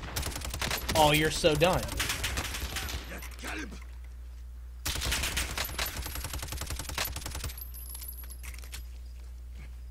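Rapid bursts of automatic gunfire in Call of Duty: Warzone, a dense volley in the first three seconds and another from about five to seven seconds, with a player shouting over the shots.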